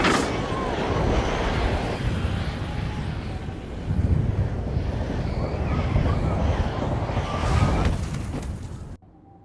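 Blizzard wind in the VR survival game Survivorman roars as a loud, continuous gusting rush, swelling midway before cutting off abruptly at the end.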